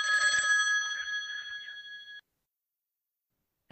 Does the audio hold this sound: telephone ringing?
yes